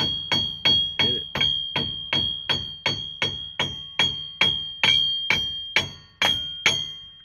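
A hammer strikes a stuck lug nut on a car wheel about fourteen times in a steady rhythm, each blow a sharp ringing metallic clang that decays quickly, close and loud with no talking.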